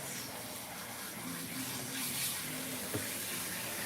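Water runs steadily from a tap to rinse a cat during a lion cut grooming, a faint continuous splashing flow with a small knock near the end.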